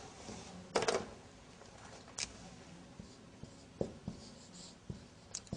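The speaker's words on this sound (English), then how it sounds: "I will write down here" Marker or chalk strokes on a board during an Arabic lesson: scratchy strokes and a few sharp taps spaced unevenly over a faint room hiss, with no talk.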